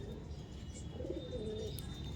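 A pair of Andhra pigeons kept for sale gives soft, low cooing, faint and brief against a steady background hiss, with no talking.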